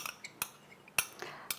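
A utensil scrapes thick coconut cream from a container into a blender, making a few sharp metallic clinks and taps spaced irregularly, close and fairly quiet, with no speech.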